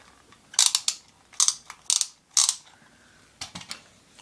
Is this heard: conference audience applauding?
no